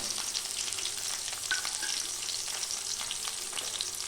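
Sliced onions frying in hot oil for a chicken curry, a continuous dense sizzle that stays steady and close throughout, with occasional light stirring.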